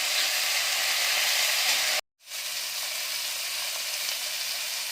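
Water lily stems fry in a pan with a little salt, giving a steady bright sizzle that cuts out abruptly for a moment and then resumes.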